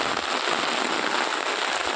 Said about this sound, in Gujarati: વીજળીના ચમકારા અને વાદળના ફડાકા તો જો